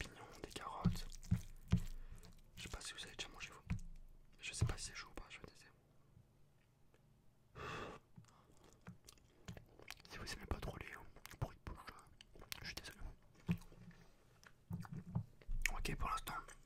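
Close, soft chewing and moist biting of rice in a crème fraîche sauce, a frozen ready meal from Picard, with whispered speech woven between the mouth sounds.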